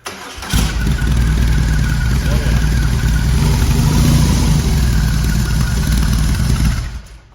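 A BMW boxer engine cranks and catches, then settles into a steady, throbbing idle up close for several seconds before cutting off.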